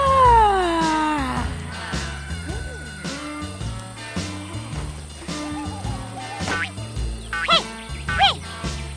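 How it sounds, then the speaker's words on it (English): A cat meows repeatedly, loud and close, with drawn-out falling wails and shorter cries over a busy background of rhythmic music-like thumps. "It's a cat."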